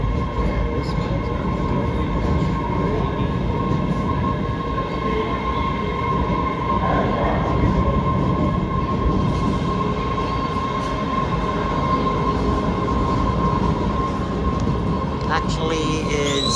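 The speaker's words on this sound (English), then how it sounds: "Here comes our train." A Boston MBTA subway train pulling into a station, with a loud, steady rumble and roar of wheels on rail throughout, a sustained high squeal near the end, and people talking over it.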